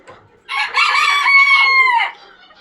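A rooster crows once, loud and close, in a drawn-out call lasting about a second and a half, preceded by faint clucking, on a poultry farm.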